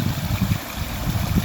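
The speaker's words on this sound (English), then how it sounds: "That's a little tiny waterfall." A small waterfall in the woods gives a steady, continuous rush of water with soft low burbling pulses, fairly close and alone, with no voices.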